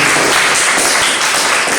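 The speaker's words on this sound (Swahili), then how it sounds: "Wapi makofi yake tafadhali" A crowd at a live concert applauds loudly and continuously, dense clapping filling the whole brief moment close up without a break.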